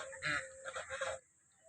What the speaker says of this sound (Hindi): बतखें नहा रही हैं।